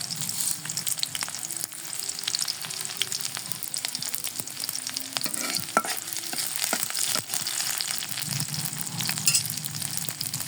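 Onions frying in oil for beresta, a steady loud sizzle with faint stirring clinks, continuous throughout with no talking.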